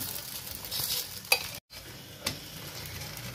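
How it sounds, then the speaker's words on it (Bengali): Dal puri dry-roasts in a pan without oil, giving a soft continuous sizzle with a few brisk scraping stirs and a short break partway through. "এই যে ভাজছি আমি, এই ভাজাতে কিন্তু কোনো তেল ব্যবহার করতে হবে না, জাস্ট এটাকে সেকে নেওয়া বলে।"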